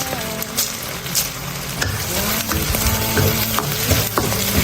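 Dried chilies, Sichuan peppercorns and green peppercorns stir-fried over low heat in oil with bean paste and hotpot base, a steady sizzle broken by repeated scraping and clacking strokes of a spatula in the pan.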